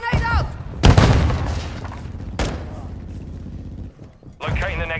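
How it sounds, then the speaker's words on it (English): A stun grenade goes off in a Modern Warfare 2 Hardpoint match on Dome, a sharp loud bang among other booming blasts and gunfire, with shouted voices in between. "Get the stun grenade out!"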